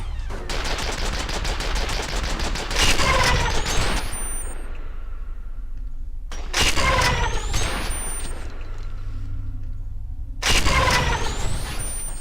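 Turrets in F.E.A.R. fire three long, loud bursts of rapid gunfire, separated by short pauses filled with softer mechanical hum and clatter.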